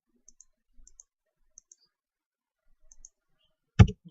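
Computer mouse clicks while drawing a spline in 3D CAD software: several faint, sharp click pairs spaced across a quiet moment, then one louder knock near the end.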